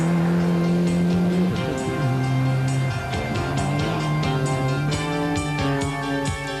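Isuzu Aska rally car at full power on a special stage of the 1983 RAC Rally, its engine holding a loud, steady drone with shifting revs and tyre noise throughout, close and continuous.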